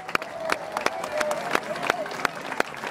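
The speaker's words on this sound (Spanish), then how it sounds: "Un aplauso para ellas y para ellos." Crowd applause at a political homage ceremony for Che Guevara, a thin scattering of claps with sharp individual hits, faint and somewhat distant, as voices murmur beneath.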